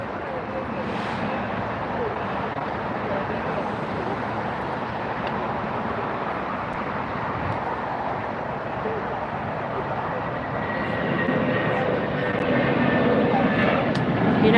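A United Boeing 757 jet at LAX airport produces a broad, steady engine roar that swells louder toward the end, while someone talks over it.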